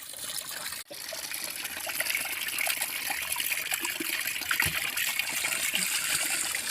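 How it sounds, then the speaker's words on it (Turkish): Water flows from a natural spring outdoors, a steady close trickle and gush that runs continuously after a brief dip near the start, no talk. "Doğayla iç içe su mis gibi akıyor."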